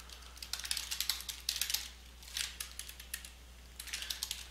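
Fingers type on a computer keyboard in short irregular bursts of crisp, close key clicks with brief pauses between runs, over a faint low hum and with no talking.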